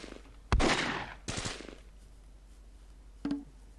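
MG42 machine gun fire in the World War II strategy game Close Combat, heard as two loud, harsh bursts in quick succession, followed after a pause by a short, fainter burst.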